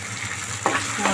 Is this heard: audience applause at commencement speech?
no